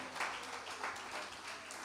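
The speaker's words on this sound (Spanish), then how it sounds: "Dale un aplauso a Cristo Jesús, a su nombre" A church congregation applauds during a sermon, a brief burst of diffuse clapping heard from some distance, soft and fairly even, with no voices over it.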